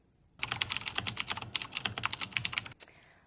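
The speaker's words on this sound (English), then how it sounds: "Don't even get me started about y'all's goddamn clicky keyboard." Fingers type rapidly on a clicky mechanical computer keyboard for about two seconds, producing a close, crisp, dense burst of keystrokes that stops abruptly.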